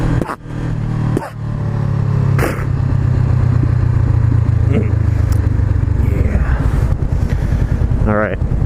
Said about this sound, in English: Oh, that exhaust. Snap, crackle, pop.